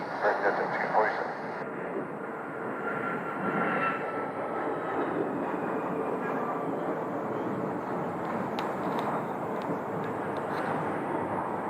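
Fixed-wing airplane landing at Phoenix airport, a steady roaring engine drone heard from outside at some distance, with wind buffeting and people chatting nearby.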